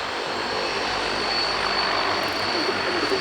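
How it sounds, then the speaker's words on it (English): A Dassault Atlantique ATL2 maritime patrol aircraft's Rolls-Royce Tyne turboprop engines give a loud, continuous droning roar with a steady high whine, heard nearby for several seconds. "it allows us to hear an engine note that you simply don't hear, I think, in any other operational aircraft these days"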